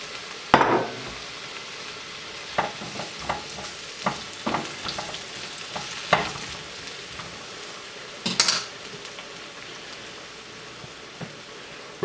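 Aromatics sizzling in hot olive oil in a pan: a quiet continuous crackle with scattered sharper clinks and scrapes of stirring at irregular intervals, close by and with no talking.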